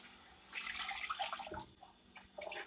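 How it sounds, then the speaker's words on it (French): Water is poured into a pot of simmering fish broth for a grandmother-style fish and sardine rice, a steady splashing pour starting after a short quiet moment and tapering off near the end. "Nous allons maintenant verser de l'eau."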